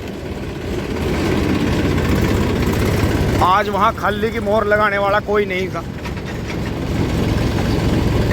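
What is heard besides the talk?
trucks and tractors running at sugar mill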